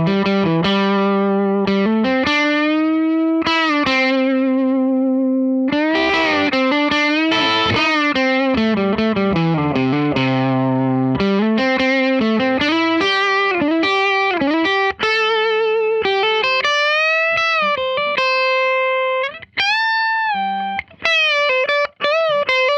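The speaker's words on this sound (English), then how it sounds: "So the Gibson Angus Young Sg, let's hear what this thing sounds like" A distorted Gibson Angus Young SG electric guitar plays a continuous lead line with bends and sustained notes, loud and saturated through a driven Supro 1695T Black Magick tube amplifier.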